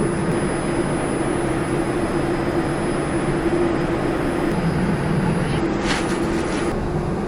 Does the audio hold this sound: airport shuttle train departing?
yes